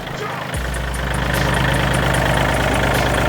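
A used 2019 John Deere 3036E tractor engine idles up close, a loud, steady low diesel rumble with a faint rhythmic knock that holds evenly throughout.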